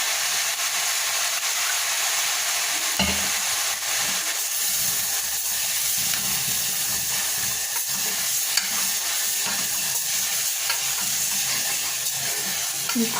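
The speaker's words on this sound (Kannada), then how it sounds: "ಮಿಕ್ಸ್ ಮಾಡ್ತಾಯಿದ್ದೀನಿ." A spoon stirs sprouted green gram sambar in a pot, giving scraping, sloshing strokes over a steady bright bubbling sizzle and steam hiss that runs throughout.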